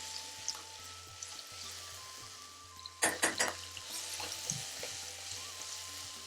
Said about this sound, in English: So we just want to fry this down for about 30 or 40 seconds